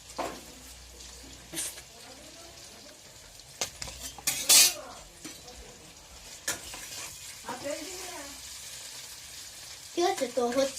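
Rooti chowmein with tomato sauce is stirred and fried in a pan, with soft sizzling under repeated metal scrapes and clinks of a utensil against the pan, close and uneven, with a voice briefly audible.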